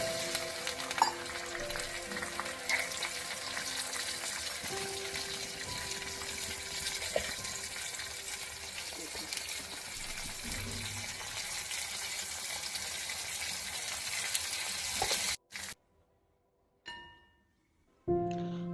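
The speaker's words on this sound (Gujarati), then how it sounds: "હવે આપણો વઘાર બરાબર ઉકળી ગયો છે." A tempering of curry leaves in water with salt and sugar bubbles and sizzles steadily up close, then cuts to near silence with a couple of brief clicks near the end.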